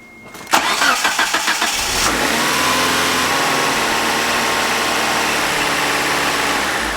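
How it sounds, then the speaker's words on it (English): A 1992 Mitsubishi Galant VR-4 engine cranks with a quick series of rhythmic starter turns, catches and revs up, then settles into a loud, steady idle heard close by. "we're going to go ahead and start the car again"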